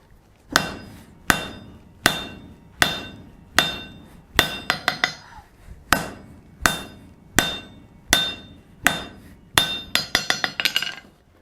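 Hammer blows on hot steel being forged into a cold chisel taper, a steady run of sharp ringing strikes roughly every half second with quick bursts of lighter taps in between, close and clear, no speech.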